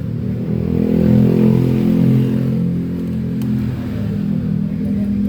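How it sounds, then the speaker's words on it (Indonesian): A Honda Beat FI scooter engine, one that burns too much fuel, runs at a steady idle with a low continuous rumble, swelling slightly early on, loud and close. "Nah sekarang kita nyalakan aja motornya"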